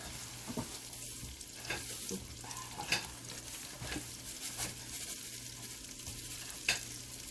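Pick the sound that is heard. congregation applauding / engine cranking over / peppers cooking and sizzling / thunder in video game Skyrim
peppers cooking and sizzling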